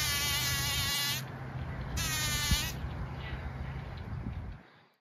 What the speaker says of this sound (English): When bumblebees buzz pollinate, they make an intense buzzing sound.